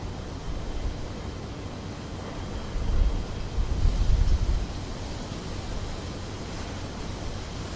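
Wind buffets an outdoor tennis court at the Australian Open playoffs, a continuous broad rushing hiss with a gusty low rumble that swells briefly midway before settling.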